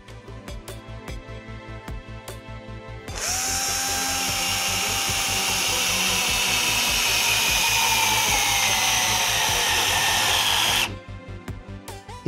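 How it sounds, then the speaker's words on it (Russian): A power driver whirs as it sinks a self-tapping screw into a terrace decking board. It is one loud, continuous whine of about eight seconds, with light clicking and tapping before and after. "И спокойно его закручиваем до момента, пока нельзя будет спокойно снять."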